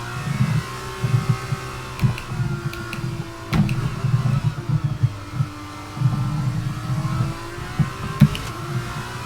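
F2 race car engine in the F1 22 racing game on the Miami circuit, revving continuously with repeated rises and dips as it accelerates and shifts, loud and close with no voices.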